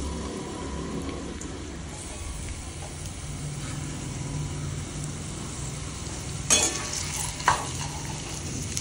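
Onion dropped into a pan for a homemade pizza topping, a quiet steady frying hiss with a low hum underneath, then two louder bursts of sizzle and clatter near the end.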